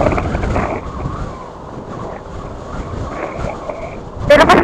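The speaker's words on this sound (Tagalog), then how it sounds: "normal na itong laging malakas ang hangin dito eh" Strong mountain wind gusting steadily at a high roadside spot near a botanical garden in Infanta, Quezon, buffeting the microphone in a continuous rumbling roar, with a brief louder burst at the end.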